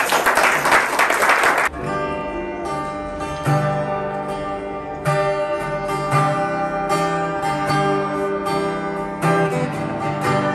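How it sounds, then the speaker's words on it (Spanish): A congregation at an evangelical worship service breaks into a short, dense burst of applause that cuts off abruptly, giving way to sung worship music with steady instrumental backing. "Den un fuerte aplauso al Señor"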